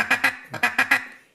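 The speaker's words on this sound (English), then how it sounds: "the true feed call is more broken up and erratic" Duck call blown in a quick, uneven run of about six loud raspy quacks, a broken-up feed-call chatter that trails off at the end.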